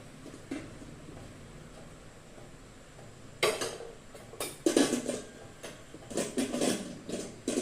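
Clattering of a pressure cooker and water being swished as chickpeas are washed in it, with bursts of rinsing and scraping sounds that grow busier toward the end.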